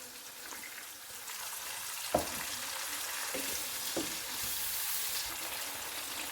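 Stuffed bitter gourd frying in a pan as water is poured in, a soft continuous sizzle with a few brief splashes and clinks, quiet and close, no talking.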